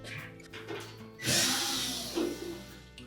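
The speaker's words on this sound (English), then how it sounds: "Now next we'll remove this support piece by taking out 2 screws on either side." A power driver backs screws out of a support piece on a Samsung dryer during drive-belt repair, with a brief whirring burst after quiet handling sounds and a short second spin near the end.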